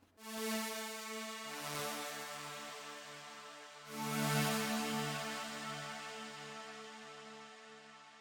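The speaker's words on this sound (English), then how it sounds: "Starting with the pads, I am using the VST Spire and a preset that sounds like this." A lush synth pad from a Spire preset in FL Studio, a trance-style sound, sustains chords with a soft swell, shifts to a new chord midway, then swells again and slowly fades.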